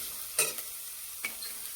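Samosa potato filling is stirred in a hot pan, a quiet constant sizzle broken by two distinct scraping stirs of a spoon, close and with no talking.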